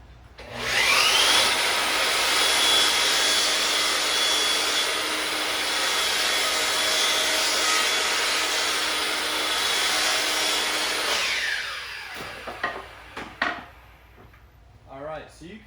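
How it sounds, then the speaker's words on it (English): A Makita LS1219L miter saw cuts wood: a loud, steady whine with a sharp start, running for about ten seconds before spinning down, followed by a few clacks and knocks. "let's see what happens when we start to cut with the Makita"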